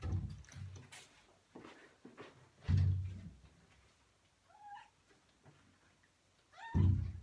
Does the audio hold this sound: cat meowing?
yes